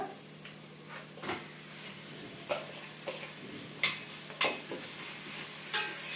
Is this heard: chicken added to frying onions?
yes